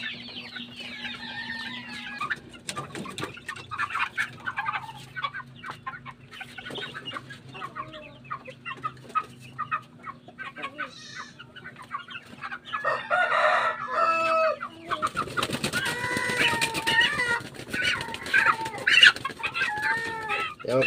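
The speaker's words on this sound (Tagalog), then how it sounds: "Mga lalaki po ito mga kapanok na manok natin na alaga." Penned male chickens raised for meat cluck and crow repeatedly at close range, with several birds calling over one another and the calls growing denser and louder in the later part, with no talk.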